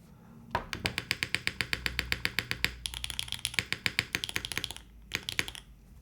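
Fast typing on a Tyche75 mechanical keyboard, a close run of loud, clacky keystrokes in quick irregular bursts with a couple of brief pauses and a deeper thock or two among them.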